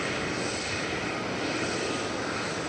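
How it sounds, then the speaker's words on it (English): An Airbus A320 airliner on approach to DFW Airport roars as a steady, loud, broadband engine rush that holds constant from start to finish, with no voices over it. "That's an Airbus A320"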